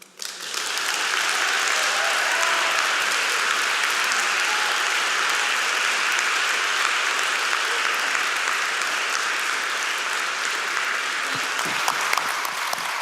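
A lecture audience breaks into sustained applause, a dense, even roar of clapping that starts abruptly and holds steady for over twelve seconds.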